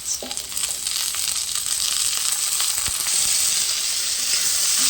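Neem leaves fry with onion and green chili in hot oil, giving a constant close sizzle that swells slightly over time, with a brief clatter of stirring near the start and no talking.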